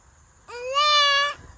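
A child imitates a goat with a single drawn-out, rising bleat-like cry lasting under a second, close and clear over a quiet room.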